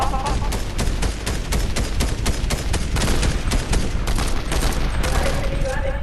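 Dense, sustained gunfire from Fortnite, a rapid fusillade of overlapping shots running the whole time at close range, loud and continuous.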